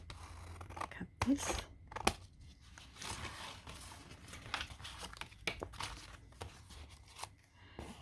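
Paper being cut with scissors for a soft grunge writing journal, soft snipping and crinkling strokes close by, with a brief word spoken partway through.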